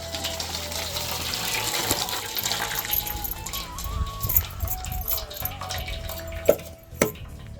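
Water drains and trickles from boiled tutti-frutti pieces through a kitchen sieve, a soft continuous pouring with a few louder splashes near the end.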